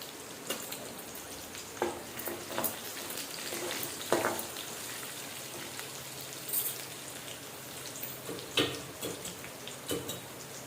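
Food sautéing in a pan with turmeric as colocasia leaf curry is cooked, giving a steady soft sizzle with scattered crackles and light stirring clicks, close and fairly quiet, with no voices.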